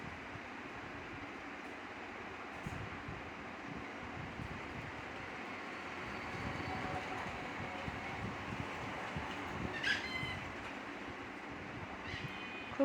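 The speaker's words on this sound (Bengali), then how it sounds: "ট্রেন অনেক জোরে যাচ্ছে, তবুও কিন্তু 38 ঘন্টা সফর।" Constant low roar and rattle inside a fast-moving passenger train in India, heard from within the coach, with wind rush and faint clicks throughout.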